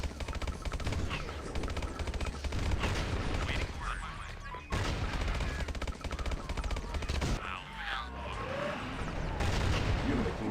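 Enemy units firing in the video game Command & Conquer Tiberian Sun, with dense, continuous machine-gun bursts and crackling gunfire loud throughout, and brief pauses between volleys.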